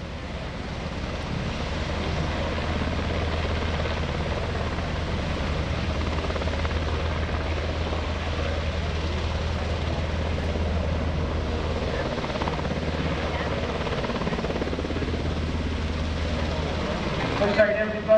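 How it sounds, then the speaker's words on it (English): A UH-60 Black Hawk helicopter flies steadily nearby at an airshow, its rotor thumping and engine droning loudly and continuously throughout, with voices faintly underneath. "Looks like everybody's on board the lead Blackhawk helicopter there."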